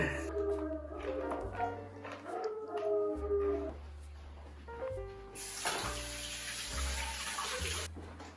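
Family dogs howl outside in drawn-out wavering cries, heard over running tap water and other kitchen sounds nearby.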